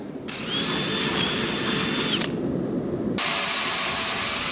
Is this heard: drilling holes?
yes